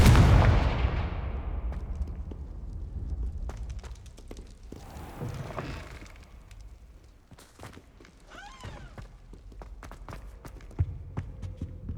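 Bombarda and Confringo spells explode in the Hogwarts Legacy video game, starting with one loud, booming blast. Scattered thuds, crackles and footsteps follow at a lower level, and a few sharper impacts come near the end.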